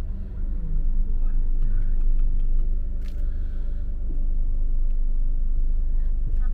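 Steady low rumble of many cars in heavy traffic around a crowded seafood market parking area in Japan, continuous and fairly loud, with faint voices mixed in.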